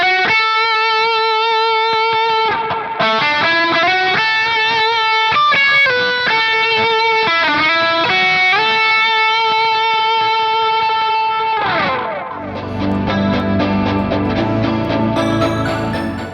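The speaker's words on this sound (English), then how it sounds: "I'm going for quite a lot of reverb and delay" Sustained lead electric guitar melody drenched in heavy reverb and delay, notes gliding and bending, ending in a washed-out swell of lingering echoes; loud and continuous with no talking.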